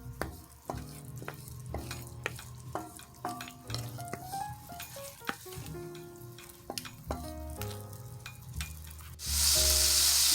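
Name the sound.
sauteing cherry tomatoes in sauce in a pan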